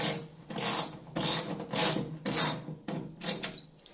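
A hand ratchet drives 10mm bolts into a flight simulator frame, giving repeated bursts of quick clicking strokes roughly every half second, close and fairly quiet, with no voices.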